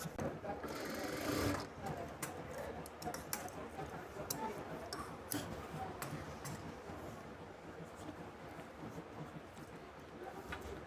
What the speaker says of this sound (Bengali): দ্বিতীয় পাটটিও আমাদের একইভাবে কিন্তু সেলাই করতে হবে